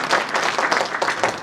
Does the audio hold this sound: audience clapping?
yes